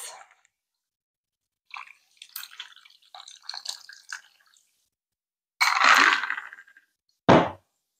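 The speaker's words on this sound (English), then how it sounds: "Pour over ice." Margarita poured in short bursts over ice with clinks and cracks, ending in a louder rush of pouring and a brief splash; close and otherwise quiet.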